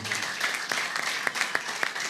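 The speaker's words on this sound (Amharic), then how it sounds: "አጨብጭቡ ለጌታ።" Congregation at a church prophecy service clapping together, a fast, uneven burst of many hands under faint background voices.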